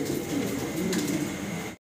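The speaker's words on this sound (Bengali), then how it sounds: "অ্যালমন্ড কালারের অসাধারণ সুন্দর এক জোড়া ডিউলিপ কবুতর আমরা দেখতে পারতেছি" A pair of almond-coloured Dewlap domestic pigeons coo with low, soft, throaty burbling, close by and continuous, before the sound cuts off abruptly.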